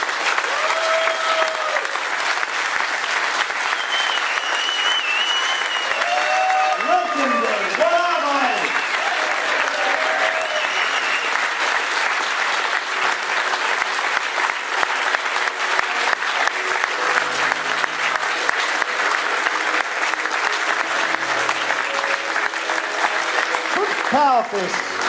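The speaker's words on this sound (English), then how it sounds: "I demand a standing ovation for the grandfathers of Melbourne 40k, Mike Bantic and Ed Brock from Power Fist." A large crowd at a Melbourne Warhammer 40k event gives a standing ovation for the Power Fist founders, with sustained, loud, steady applause throughout and voices cheering and speaking over it.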